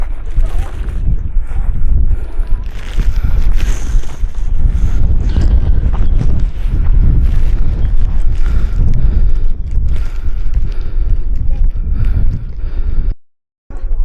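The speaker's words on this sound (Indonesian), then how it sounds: "Anginnya kencang banget." Strong wind buffets the microphone at the crater of Kelud volcano, a loud, continuous roaring rumble with gusty swells that holds steady for most of the clip, then drops out abruptly near the end.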